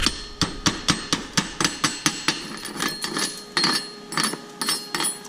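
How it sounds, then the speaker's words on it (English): A tool chips slag off a fresh weld bead with a rapid series of sharp metallic taps and clinks, about a dozen in quick rhythm, close and clear. "Slag's coming right off nicely."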